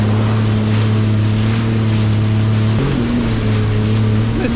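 Jet ski running at partial throttle across choppy water on Subic Bay, a steady loud engine drone with a brief pitch dip and recovery midway, wind and water noise throughout, no talking.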